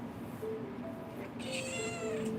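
A cat meows repeatedly indoors, a few drawn-out, fairly close calls over a soft steady background hiss.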